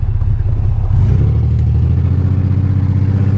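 A 2003-era BMW 325xi E46 bought from a salvage auction, its engine loud and running close by with a deep, steady drone and rising revs, no talking over it.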